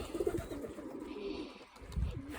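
Pigeons let out from their loft coo softly in low, rolling phrases, fairly faint, with no speech.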